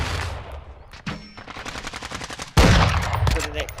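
Video game gunfire crackles in loud, rapid bursts, with a heavier blast about midway and more automatic fire after it, heard close and with no voices over it.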